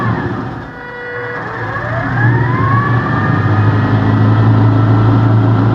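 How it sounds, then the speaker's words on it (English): A small electric motor drives a shaft and worm gear on an electric vehicle demonstration setup, giving a steady close hum whose whining tone rises in pitch as the speed increases, with no talking. "This motor is connected to the shaft, to the worm gear, and I am able to control the speed of motor now"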